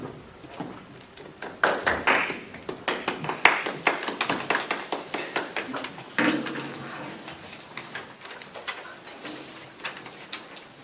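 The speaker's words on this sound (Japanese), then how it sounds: "それでは盛大な拍手をお願いいたします。" An audience at a Waseda University festival talk applauding, many sharp claps in a dense burst that swells, briefly renews, then thins out and fades.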